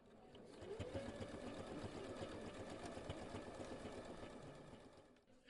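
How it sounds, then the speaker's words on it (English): A sewing machine runs steadily at a repair cafe, giving a continuous mechanical whirr and rapid needle clatter for several seconds before slowing at the end, fairly quiet and alone with no speech. "She's about to fire up her sewing machine."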